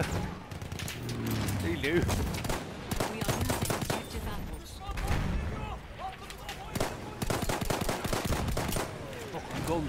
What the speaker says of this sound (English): guns going all over the place